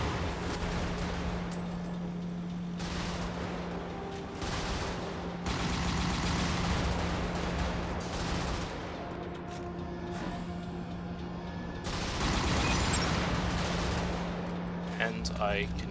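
Machine gun fire from a camouflaged hovercraft in the Brigador video game, sustained bursts with rattling broadband noise over a steady engine hum, with talk running underneath.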